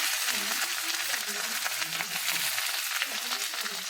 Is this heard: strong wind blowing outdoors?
no